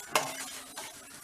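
Homemade herbal joint-pain oil frying in a pan, a brief close sizzle with a sharp stir or utensil clink at the start, then soft crackling fading out.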